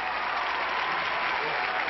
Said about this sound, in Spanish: No un aplauso, una ovación.